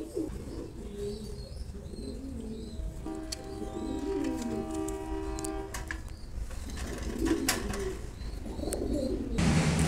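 Pigeons kept for tournament flying, including a prized male, coo in soft repeated calls nearby over a constant low background rumble, with no one speaking.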